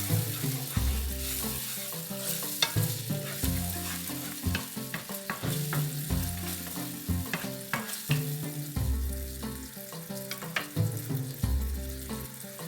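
A soy sauce and black pepper mixture is stirred in a sizzling frying pan, with a fairly quiet sizzle under repeated rhythmic scrapes and knocks of the spoon against the pan.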